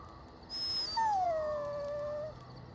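A dog in the video game Dragon Age Origins gives a brief high whine followed by a longer drawn-out whimpering howl that slides downward, heard alone over faint background.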